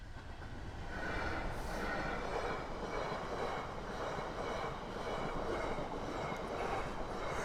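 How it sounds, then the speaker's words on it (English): A cargo train passes with a steady, heavy rumble and rhythmic clatter of wagons on the rails. It is loud and sustained throughout, with faint squeals over the drone. "that's some cargo train, that, isn't it?"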